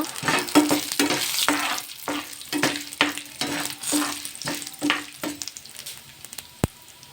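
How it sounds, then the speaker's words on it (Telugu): Mustard seeds, curry leaves and dry red chillies fry in hot oil for tamarind pulihora, with a steady close sizzle broken by repeated rhythmic stirring scrapes and a sharp clack near the end. "ఇప్పుడు ఆయిల్ వేసుకొని ఆవాలు, కరివేపాకు వేసుకొని బాగా వేయించుకుందాం."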